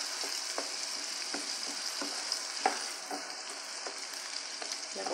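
Mortadella fries in a pan as margarine melts around it, a soft steady sizzle with small crackles and occasional pops, fairly quiet and unbroken.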